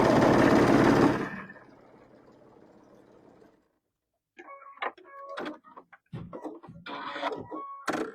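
A Baby Lock Chorus sewing machine runs in a loud burst of rapid stitching that trails off into a quieter hum, then stops, followed by scattered clicks and handling taps.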